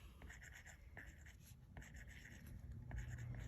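An Apple Pencil writes on a tablet screen in the GoodNotes planner app, producing soft, rapid tapping and scratching strokes in irregular bursts, faint and close, with no voices.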